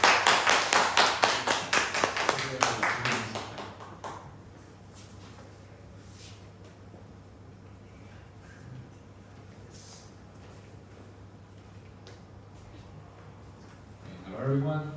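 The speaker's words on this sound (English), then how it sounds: "Let's give him a round of applause." A seminar audience at an AI-driven e-commerce event claps as a speaker takes the stage: a short burst of crisp applause that thins out within four seconds, leaving a quiet hall before a voice rises at the end.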